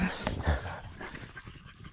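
Dogs panting and moving about while running through open forest ground on a mushroom-hunting outing, close and continuous, with rustling and faint whimpers throughout.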